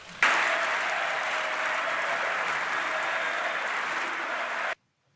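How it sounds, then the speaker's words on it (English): Steady, dense applause from an audience in the US Capitol chamber fills the space at even loudness for about four and a half seconds, then cuts off abruptly into silence. "How could they not be clapping for the Capitol building?"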